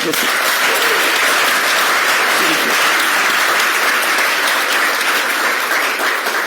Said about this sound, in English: So let's give a big applause for them.